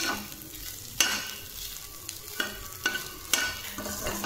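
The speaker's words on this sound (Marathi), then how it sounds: "व्यवस्थित आपली बुर्जी आपण इथे भाजून" Egg bhurji stirred and frying in a pan, a steady sizzle broken by several sharp scraping strokes of the spatula at irregular intervals, close up with no talking.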